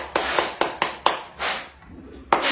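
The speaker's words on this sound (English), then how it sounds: "Give a big applause to Gautam Soni." A handful of scattered hand claps, sparse and uneven, given as applause for a homemade vacuum cleaner running off a mobile charger.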